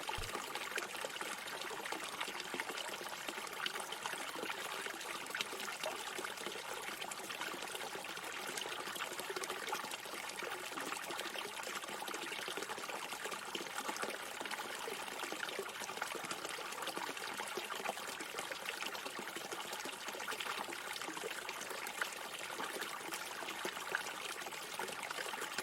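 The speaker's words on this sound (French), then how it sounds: "vous approchez de la fontaine et vous notez ses contours, sa robustesse." Water from a sturdy fountain trickles and splashes in a steady, even wash that continues without a break, with no voices over it.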